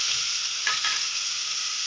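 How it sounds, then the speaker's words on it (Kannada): Green chillies frying in a pan for egg biryani, a steady close hiss of hot oil with a brief stir partway through. "ಹಸಿಮೆಣಸಿನ್ಕಾಯಿ ಚೆನ್ನಾಗಿ ಫ್ರೈ ಆದಮೇಲೆ"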